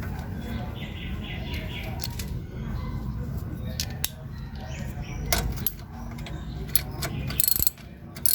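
A ratchet with an 8mm socket works on a ball joint bolt, giving scattered clicking and metallic ticks over a low background hum, with a person talking.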